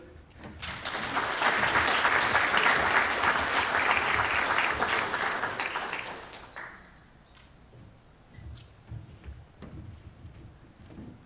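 An audience at a Hall of Fame and Top Ten awards ceremony bursts into loud applause that swells, holds for several seconds, then fades into scattered claps and quiet room noise.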